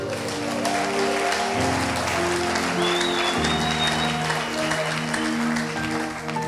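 A church congregation applauds steadily and loudly throughout, the clapping dense and continuous over a sustained musical backing.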